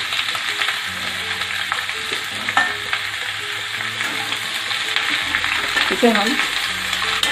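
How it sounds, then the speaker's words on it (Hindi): Radish and green chillies fry in hot oil for a pickle, a bright steady sizzle with occasional scraping of a stirring spoon, while a voice speaks briefly over it. "तेल गरम हो चुका है, अब हम मूली को डाल देंगे।"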